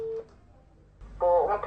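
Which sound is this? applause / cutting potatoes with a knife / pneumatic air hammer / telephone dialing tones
telephone dialing tones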